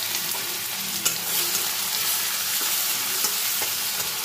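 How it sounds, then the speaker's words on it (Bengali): Crushed ginger and garlic drop into hot oil with whole spices, a close, steady sizzle with small crackles and occasional stirring clicks, no voices over it. "সবার প্রথমে এবার আমি আদা ও রসুন থেতো করাটা দিয়ে দেব"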